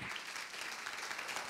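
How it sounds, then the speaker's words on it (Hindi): Audience at a Hindi Sunday church service breaks into steady, dense clapping to welcome a speaker, a short burst of applause heard on its own. "हम स्वागत करें तालियों के साथ"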